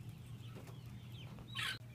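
Free-range chickens out in the sun on a pasture farm, faint low clucking under a steady background hum, with one brief, brighter squawk near the end.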